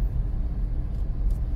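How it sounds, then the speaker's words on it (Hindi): Steady low rumble of traffic on a busy highway in Uttarakhand, a continuous vehicle drone with no voices. "सुना भैया, ट्रैफिक चल रहा है इस टाइम भी यार"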